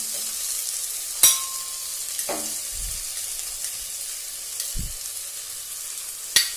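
Onions and tomatoes fry in a pan as sambar powder is stirred in, a soft steady sizzle broken by a few sharp spoon clinks and scrapes against the pan.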